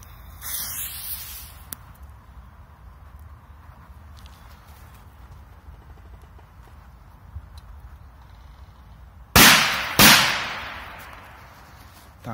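Two loud, sharp firecracker blasts in quick succession near the end, each trailing off with a ringing decay, after a brief hissing fuse sound.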